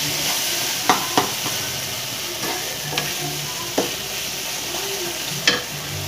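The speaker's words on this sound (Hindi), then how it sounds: "अच्छा देख सकते हैं टमाटर मेरा भून चुका है" Tomatoes frying in a pan for an eggplant and potato curry: a steady low sizzle with a few sharp spatula taps and scrapes at irregular intervals, no voices heard.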